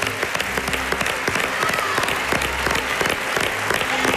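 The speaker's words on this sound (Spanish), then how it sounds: "Este aplauso para Cristina Pedrosa." Audience applause for Cristina Pedrosa on an Andalusian television entertainment show, dense steady clapping from a large studio crowd filling the whole stretch at an even level.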